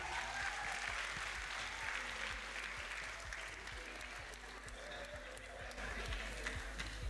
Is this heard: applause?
yes